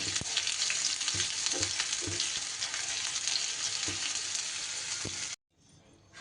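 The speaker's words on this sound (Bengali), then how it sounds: "পেঁয়াজটা এদিকে একটু বেশ লাল লাল করে ভেজে নেব।" Chopped medium-sized onion sizzles in hot oil in a pan, a loud steady hiss of frying with occasional stirring clatters, continuing for several seconds before cutting abruptly to near silence; no speech.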